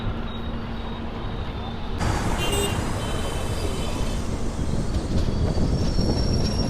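An intercity superfast express passenger train rumbles along the rails near Guntur Junction with rolling wheel noise and a few high metallic squeals, steady and close throughout.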